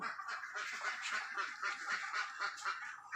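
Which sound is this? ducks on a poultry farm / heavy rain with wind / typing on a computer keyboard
ducks on a poultry farm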